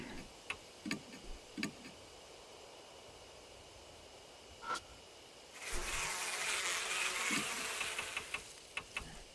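Faint scattered ticks give way to a dense, steady hiss and hum of bees around a hive in the Death Mark video game, swelling midway and holding for several seconds before sparse clicks return.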